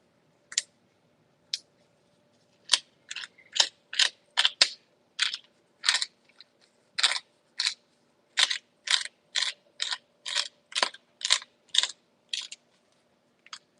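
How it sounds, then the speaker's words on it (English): A spice grinder filled with McCormick Italian seasoning, cranked in a run of about twenty crisp ratcheting grinds, each a short gritty burst, close and fairly regular against near silence. "I've got some Italian seasoning from McCormick in a grinder."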